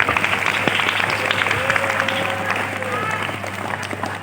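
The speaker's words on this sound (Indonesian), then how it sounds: "tepuk tangan buat Bapak Ibu guru kalian semua" Audience applause at a high school Ramadan festival sermon contest in Jakarta, a dense steady crackle filling the hall from start to finish, with voices talking over it.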